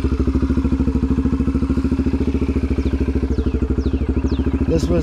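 Idling Yamaha TT125 motorcycle engine with a steady, rapid single-cylinder putter, close and loud, running evenly throughout with a few faint whistling sounds near the end.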